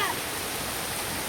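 A small stream of flowing water spilling over a mini waterfall, heard as a steady, broadband rushing wash close by, with a brief faint voice at the start.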